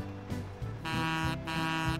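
A blaring vehicle horn in the Bridge Constructor video game sounds in loud, sustained blasts with a brief gap between them.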